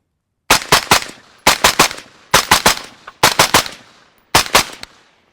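A rifle fitted with a Rugged Micro30 suppressor fires supersonic ammunition in five quick strings of three or four shots each, sharp loud cracks with short decays and brief pauses between groups, no talking.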